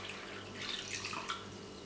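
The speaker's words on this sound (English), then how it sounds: "get some cold water from the tap and literally just pull it into your tank" Cold tap water poured into the tank of a Tommee Tippee Perfect Prep machine, giving a soft, continuous splashing trickle, close and fairly quiet, with no talking.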